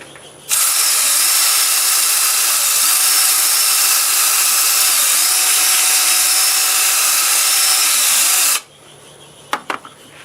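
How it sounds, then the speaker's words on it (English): An electric power sander whines loudly and steadily against a wood turning for about eight seconds, then cuts off, leaving a few faint clicks. "I'll do a little sanding and tell you what's going on"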